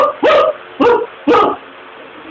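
A dog barks three times in close succession, each bark loud, near and sharp, separated by short pauses, with a quiet background.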